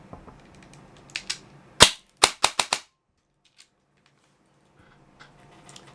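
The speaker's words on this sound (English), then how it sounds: "So let me clear the rifle." An airsoft rifle with a Gate TITAN DSG build fires a quick string of sharp snapping shots, about six cracks in a rapid burst, close and loud amid quiet mechanical clicks.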